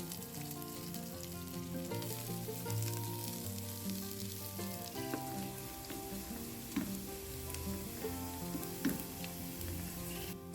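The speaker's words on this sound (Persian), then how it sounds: "2 عدد پیاز خلالی شده رو اضافه و تفت بدید تا سبک بشه." Steady oily sizzling and crackling of sliced onions frying in oil in a pan, continuous and fairly close, with faint background tones and no talking.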